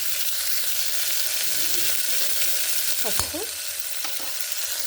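Chicken neck pieces with salt stir-fried in a pan for a puppy, a steady sizzle throughout with stirring scrapes and one sharp clatter of a utensil midway.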